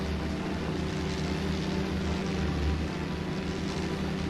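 The Tiny Bronco propeller plane in Final Fantasy VII flies with a steady, continuous engine drone that holds level throughout and is heard alone, with no talking.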